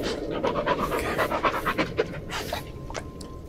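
A dog pants rapidly in the video game Blair Witch, a quick rhythmic series of breathy huffs close up over a low background hum, with faint game sounds.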